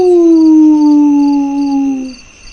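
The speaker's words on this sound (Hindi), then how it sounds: "दूर जंगल से सियारों की पुकार सुनाई दी।" A jackal in a forest at night gives a single long, loud howl that slowly falls in pitch and fades out at the end, with no other sound around it.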